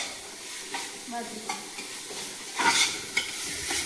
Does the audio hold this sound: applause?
no